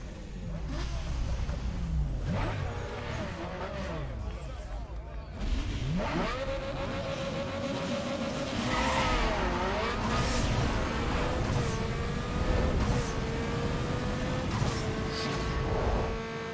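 Mazda RX8 with a 1.3-litre two-rotor engine and stage 3 turbo racing in Need For Speed Underground 2: a high-pitched rotary engine revving hard through repeated gear shifts, continuous and loud, with a voice talking over it at times.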